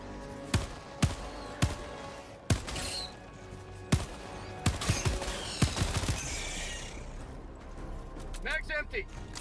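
Gunfire in the video game Helldivers, fired at a swarm of giant bugs: single sharp shots spaced roughly a second apart, then a dense burst of rapid fire, with a voice talking over the shooting.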